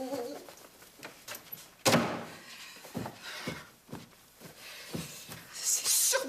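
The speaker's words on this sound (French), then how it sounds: "T'entends pas? Ben oui, c'est le coucou." A cuckoo clock calls at night with a series of evenly spaced hooting notes, and a voice speaks briefly in between.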